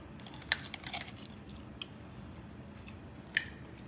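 Sharp knife chops through onion on a board while steak pizzaiola is prepared, a few distinct crisp cuts spaced irregularly over a quiet background.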